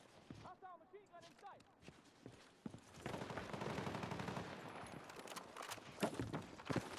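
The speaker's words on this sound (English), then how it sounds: "Hostile machine gun" Machine gun fire in the Battlefield 6 battle royale video game: a long, dense, crackling volley of rapid shots that swells midway and carries on, faint overall and heard fairly far off after a few soft, brief in-game sounds.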